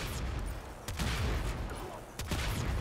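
Tombfinger charge shots fire in the Warframe video game, with several heavy booming blasts spaced about a second apart over a dense, steady bed of game noise.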